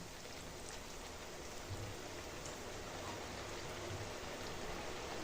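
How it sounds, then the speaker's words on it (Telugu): Bread slices fry in oil for a quick sweet, giving a faint, even crackling hiss like light rain, with a couple of soft low bumps and no speech. "ఇలా అన్నిటినీ ఫ్రై చేసుకోవాలండి ఆయిల్లో"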